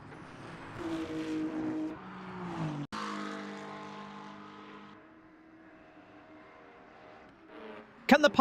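Race cars pass in Le Mans Ultimate at La Sarthe, engine tones rising and falling as they sweep by, with a sharp change near three seconds and a brief harsh burst at the end.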